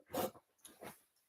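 A sleepy, fluffy pet dog grumbles with two soft, breathy, snorting groans close by, the first louder and the second trailing off, in an otherwise quiet room.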